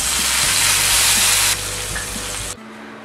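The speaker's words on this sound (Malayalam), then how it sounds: "ഇതിലേക്ക് കടുക്, ഉലുവ, പച്ചമുളകൊക്കെ കൂടെ വറുത്ത് ചേർക്കാം" Mustard seeds, fenugreek and green chillies sizzling in hot oil for a tempering on a Kerala mixed vegetable theeyal, a loud dense crackling hiss that drops suddenly partway through and then cuts away.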